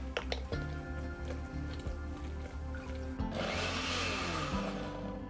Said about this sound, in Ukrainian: Я ж за допомогою блендера.